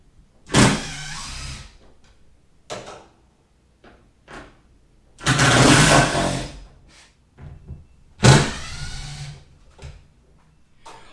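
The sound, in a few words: power driver with Torx T27 bit removing tailgate screws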